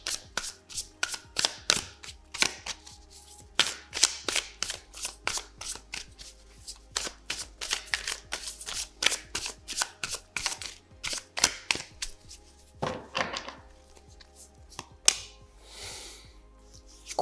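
Tarot cards are shuffled by hand in rapid crisp bursts of riffling and flicking, close and clear, with brief pauses between the shuffles and no talking.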